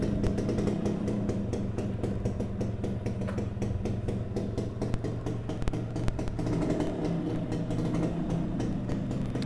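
A Sprinter motorcycle runs after a choke start: a continuous mid-pitched engine note with a rapid, steady firing rhythm and slight surges, loud and close, with no speech.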